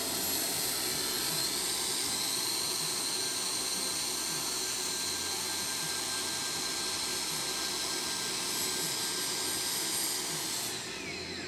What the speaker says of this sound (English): We just took a grinder or a flat disc grinder and shaved down about an eighth of an inch